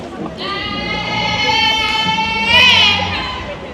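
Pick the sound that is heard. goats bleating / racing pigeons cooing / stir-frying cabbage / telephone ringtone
goats bleating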